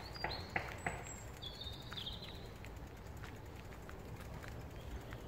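Birds chirp and whistle outdoors in short calls over a constant background rush, with a few sharp taps early on.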